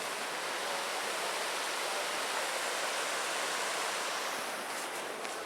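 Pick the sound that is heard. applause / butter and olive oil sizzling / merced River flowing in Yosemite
merced River flowing in Yosemite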